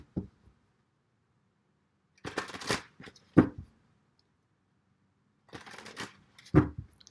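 Two short bursts of tarot cards being shuffled, each a crisp riffle ending in a sharp tap, close and clear with quiet gaps between.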